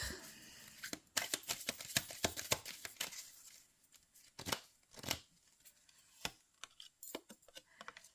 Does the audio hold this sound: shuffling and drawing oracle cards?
yes